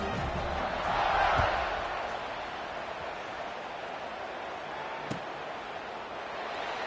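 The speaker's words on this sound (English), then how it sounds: "this crowd is buzzing after that last score" Simulated stadium crowd murmuring in a Madden football video game after a long touchdown, a steady broad wash that swells briefly near the start and stays constant, with a single faint thump later.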